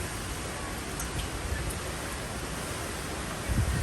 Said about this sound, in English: Nice sideways rain.